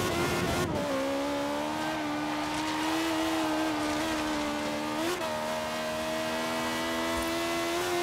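A high-pitched, high-revving V8 engine in a BMW i8 in the racing game Forza Horizon 3 drones steadily at high revs, with a brief dip and recovery midway, loud and continuous.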